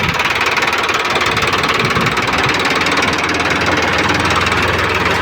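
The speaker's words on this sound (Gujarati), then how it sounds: "જોઈ શકો છો ટ્રેક્ટર માલ ભરેલો જાય છે" A loaded tractor's heavy engine chugs loudly and steadily up close, with a dense rhythmic knocking rumble that never lets up.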